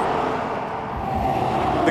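Truck traffic passing on a road near warehouses, a continuous low rumble of vehicles with a steady roadway hum and no talking.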